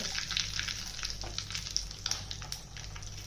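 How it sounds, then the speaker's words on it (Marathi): Mustard seeds, curry leaves and a pinch of asafoetida hit hot oil for a tempering: a bright, close crackling sizzle with scattered sharp pops throughout, with no voices. "तेल गरम केले बघा, त्याच्यामध्ये मोहरी, कढीपत्त्याचे पाने, हिंग,"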